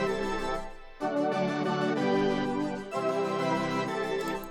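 Two 1980s-style synthesizers, one panned hard left and one hard right, trade phrases in a call-and-response pattern, dense and sustained with a brief dropout near the start and another shift later, with no voices.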